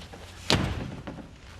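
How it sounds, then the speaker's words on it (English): A door slams once, a sharp close thud followed by a fainter knock a moment later, set against a quiet room. "You won't go slamming doors when you're older, will you, Sophie?"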